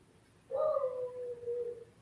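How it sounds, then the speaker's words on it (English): A beagle lets out a single drawn-out howl lasting about a second and a half, starting abruptly and trailing off, heard indoors at moderate distance against a quiet background. "the beagle howls, the lab barks"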